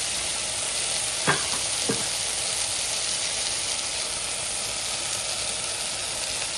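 Remaining ingredients for a vegetable lentil soup added to a sizzling pan, a steady broad hiss of cooking with two brief knocks from a utensil early on, no talking.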